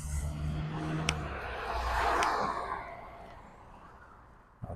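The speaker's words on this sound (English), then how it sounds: "I'll cross once the cars are not going by anymore" A car passes on a downtown street in Regina, its engine swelling as it nears and then fading away, with a lighter whoosh of traffic before and a brief knock at the end.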